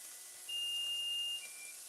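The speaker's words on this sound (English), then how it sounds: "Ooh, our 20 minutes timer is up." Kitchen timer beeps once after a 20-minute countdown, a single long, thin electronic tone of about a second over a quiet room hiss, no voices.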